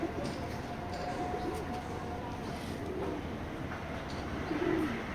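Racing pigeons at a loft coo softly in a steady low murmur beneath constant background noise, with a slightly louder burst of cooing near the end.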